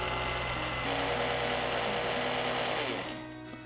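A kitchen mixer grinder whirs loudly and steadily, grinding one cup of barnyard millet (varai) into coarse flour, then winds down near the end of the run.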